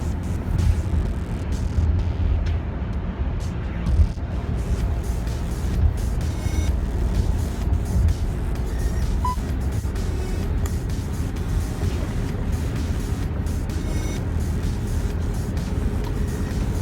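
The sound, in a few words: tyre noise of oncoming cars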